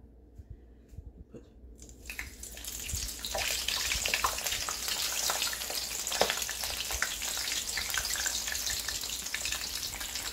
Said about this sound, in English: We're going to get these bad boys into our hot oil.